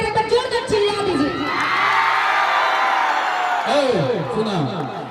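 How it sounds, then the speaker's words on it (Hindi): A live stage contest audience, Jharkhand versus Bihar, lets out a loud roaring shout and whoops for a couple of seconds between stretches of someone talking over the sound system. "सभी लोग एक बार हाथ उठाकर एक बार जोरदार चिल्ला दीजिए"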